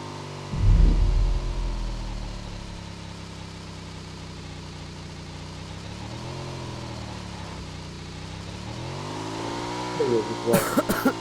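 A motorcycle engine in the PUBG Mobile battle-royale game hums steadily at idle and mid revs, with rising and falling pitch swells, while a player talks over it and a brief louder thump opens.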